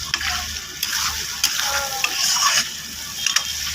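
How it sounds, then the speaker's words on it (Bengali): Spice masala for a Bengali chicken curry, coloured with home-ground turmeric, is stir-fried in a pan, giving a steady close sizzle with scraping, clinking spoon strokes through a few seconds, with no talking. "তো আমি মশলাটাকে ভালো করে কষিয়ে নিই।"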